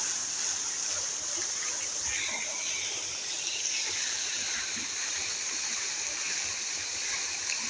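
A park fountain at night sends a steady, continuous wash of splashing water, faint and even throughout with no talking over it.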